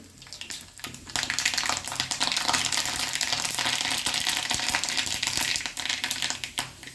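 Mustard seeds pop in hot coconut oil with dense, rapid crackling and spitting, growing busy after a quiet start and staying loud and close until it eases near the end.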